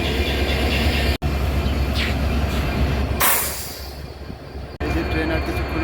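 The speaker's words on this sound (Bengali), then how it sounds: "আর এই যে দেখেন আরেকটা ট্রেন যাচ্ছে।" A train rolls past at a Bangladeshi railway station with a loud, steady rumble and wheel clatter, a high squeal rising midway, while a person talks over it.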